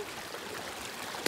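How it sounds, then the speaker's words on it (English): A river runs at a trail crossing along a long-distance mountain hiking route, giving a steady, soft broadband wash of flowing water at moderate distance, with one brief louder splash or knock near the end. "River Crossin!"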